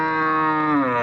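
Cow at a Namakkal weekly cattle market giving one loud, close, sustained moo with a rich harmonic tone lasting about a second.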